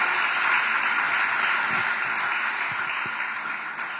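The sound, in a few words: congregation applause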